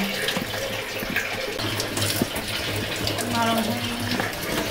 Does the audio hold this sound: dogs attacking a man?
no